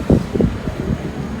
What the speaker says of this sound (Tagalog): Masyado lang malakas ang hangin.